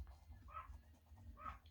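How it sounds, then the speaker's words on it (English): Two faint, distant barks from a chihuahua outdoors, spaced about a second apart against quiet background noise. "that's my chihuahua barking"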